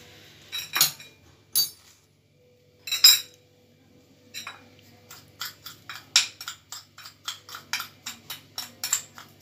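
A metal spoon clinks repeatedly against a bowl while stirring sugar and flour, a few scattered taps at first, then a quick steady run of clinks, fairly close and clear with no talking.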